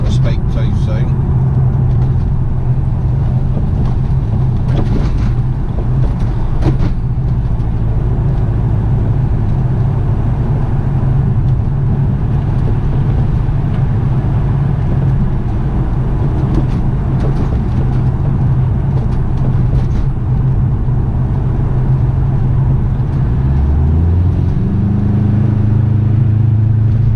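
A 2006 Subaru Forester 2.5, recently fixed for a slight misfire, drives along a road with a steady low engine drone and road rumble, the pitch shifting as it accelerates near the end.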